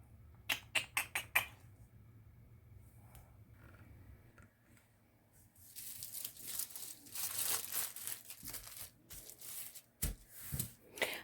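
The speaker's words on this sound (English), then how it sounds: "I'm going to cut it out of one of these pillow cases that is now Easter Bunny pink" Fabric from an Easter Bunny pink pillowcase being cut with scissors, giving a run of quiet crisp snips and crinkling rustles, sparse at first and then denser, with a few sharper clicks near the end.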